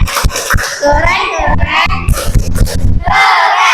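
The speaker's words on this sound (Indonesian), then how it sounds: "Kita beri tepuk keren lagi. Tepuk keren." A classroom of children chants a 'tepuk keren' cheer together with rhythmic clapping, loud and close, with shouted voices and claps mixed in bursts.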